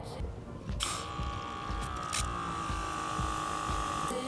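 A SEQUOIA battery-powered garden sprayer runs with a steady, quiet electric hum and hiss as its single nozzle puts out a fine mist, continuous and close with no talking.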